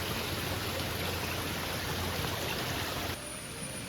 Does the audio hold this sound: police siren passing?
no